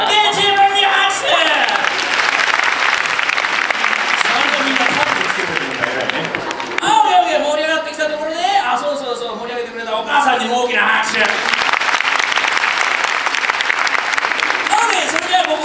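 Audience at a live rock and roll monster show breaks into sustained applause with crowd noise, loud throughout the clip, briefly mixing with shouting and cheering voices midway.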